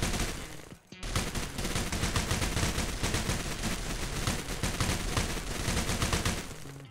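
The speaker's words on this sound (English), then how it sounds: "It reloads on its own and then it continues shooting." Automatic weapon firing in the video game Military Tycoon, a dense continuous burst of rapid shots after a brief pause near the start, loud and without talk.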